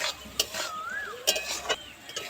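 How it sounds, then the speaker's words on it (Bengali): Cashews and raisins fry with cooked vegetables in a pan, a soft sizzle beneath repeated sharp spoon clinks and scrapes against the metal. "এবার দিয়ে দেবো কাজু কিশমিশ, দিয়ে একটু ভেজে নেব।"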